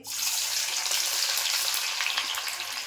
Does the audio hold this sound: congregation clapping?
no